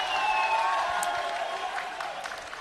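Steady crowd applause and murmuring from spectators at a men's Premier League football match, Darwin Hearts FC against University Azzurri FC, holding at a fairly even level throughout with faint whistle-like tones above.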